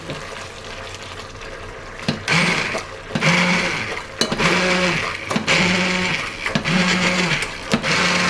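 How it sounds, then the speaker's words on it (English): An immersion blender whirs through corn soup in repeated bursts, starting and stopping every second or so, with a steady mechanical drone and a watery churning. "I like going in with my immersion blender and blending this until it's nice and smooth"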